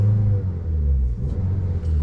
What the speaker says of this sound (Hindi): भाई आपको पता नहीं होगा, लेकिन इंजन स्टार्ट हो चुका है।